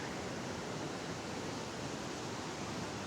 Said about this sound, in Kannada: ಸೊ ವ್ಯಾಲಿಯಲ್ಲಿ ನೀರು ಹೋಗ್ತಾ ಇದೆ